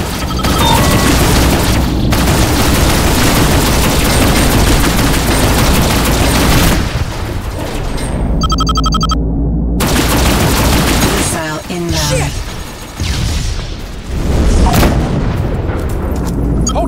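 Space-combat gunfire and explosions from Rebel Galaxy Outlaw: a continuous loud barrage of shots and booms with brief dropouts partway through, then more scattered blasts.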